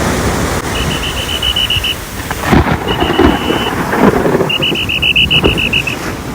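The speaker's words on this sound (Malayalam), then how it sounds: "തൊട്ട് മുമ്പുള്ള വീഡിയോ ക്ലിപ്പിൽ കേട്ട സൗണ്ട് ഒറിജിനലാണ് എഡിറ്റ് ചെയ്തതല്ല ഭയങ്കര മടക്കോളും ഇടിമിന്നലിൻ്റെയൊക്കെ സൗണ്ടാണ്" Thunder rumbles in a heavy monsoon downpour at Varkala, Kerala: steady loud rain hiss, deeper rolling bursts near the middle, and a repeated high chirping tone on top. No voices.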